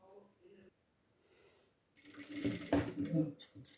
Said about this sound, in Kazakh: екінші жағында тігіп өттім